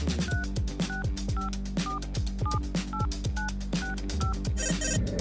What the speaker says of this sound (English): We need to call Goldie right now